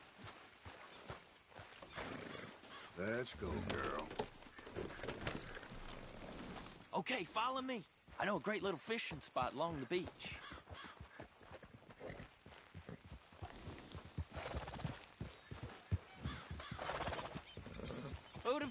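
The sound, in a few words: horse riding hoofbeats in video game Red Dead Redemption 2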